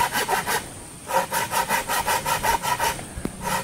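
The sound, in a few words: small handsaw cutting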